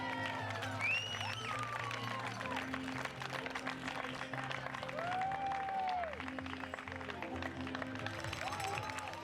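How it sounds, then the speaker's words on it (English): A crowd claps and cheers as a runner finishes IRONMAN New Zealand, steady outdoor applause under music and a commentator's voice. "she runs down the final 100 metres to the applause and encouragement"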